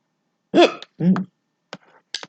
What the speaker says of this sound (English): Dang, hiccups.